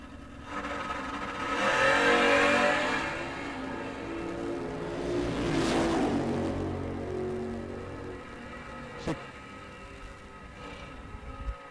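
Pickett Racing Roadster, a drag race car at a door car drag racing event, accelerates in a loud roaring pass that swells, passes and fades into the distance, with a brief sharp crack near the end.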